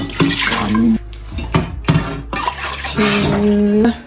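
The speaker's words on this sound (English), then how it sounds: "then I'm gonna add 3 cups of water" Water pours from a cup into the inner pot of an Instant Pot Whisper Quiet cooker in several loud, close bursts with short pauses between them, and no one speaks.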